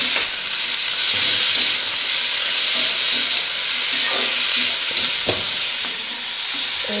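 Vegetables fry in oil with turmeric and salt, a steady close hiss and sizzle with occasional stirring scrapes and clinks, no voices.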